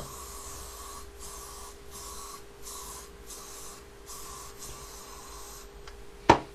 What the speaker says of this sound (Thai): ผมแนะนำให้ใช้สเปรย์นะครับ ฉีด ให้ทั่วหัว